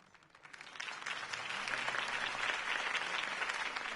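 Applause from a crowd in a video game swells in after a quiet start and holds steady, a dense wash of clapping with no voices over it.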